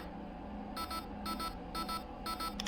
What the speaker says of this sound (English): I'm gonna turn that off by taking the buzzer out because I hate the sound of that